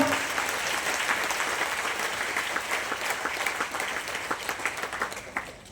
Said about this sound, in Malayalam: താല്പര്യമുള്ളവർക്ക് കൈയടിക്കാം